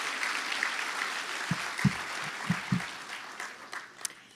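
Moderately faint audience applause at a nursing excellence awards evening, with a few sharper thumps near the middle and a crowd murmur underneath.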